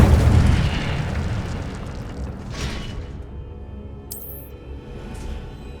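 A fiery burst from the Incendio spell in Hogwarts Legacy, opening with a loud booming whoosh that quickly fades into a low rumbling tail, with a faint bright flick later.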